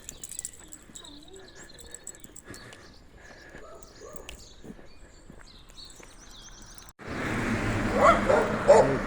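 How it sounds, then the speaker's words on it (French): Dogs in a village street in Cambremer, Pays d'Auge, bark a few scattered times at moderate distance amid quiet outdoor ambience, then a loud burst of broadband noise takes over near the end. "On fait aboyer les chiens"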